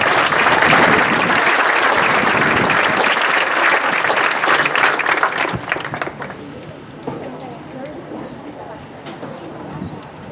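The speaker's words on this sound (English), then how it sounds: "how about a round of applause one more time for all their parents" Applause for the parents at a band night, loud sustained clapping with crowd noise that fades after several seconds, leaving a quieter room with scattered sounds.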